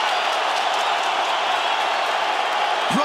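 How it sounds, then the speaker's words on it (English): A large arena crowd at a UFC fight in Brooklyn roars steadily with cheering and applause, a dense continuous wall of noise throughout, with a brief voice rising near the end. "Brooklyn crowd getting behind these 2 warriors"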